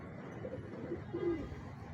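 A pigeon coos softly a few times at a racing-pigeon release point in Calauag, Quezon, low and fairly faint over a steady outdoor background hum.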